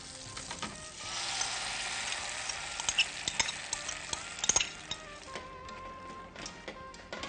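Spatula stirring through spinach and white sauce in a pan, with a steady low sizzle and scraping clicks and knocks of the utensil against the pan, close and moderately loud, no talking.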